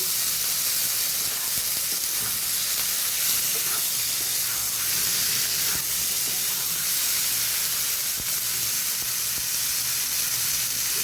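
Chicken pieces hit hot fried spices in a pan for biryani, giving a steady, loud hissing sizzle that carries on evenly throughout, with no talking over it.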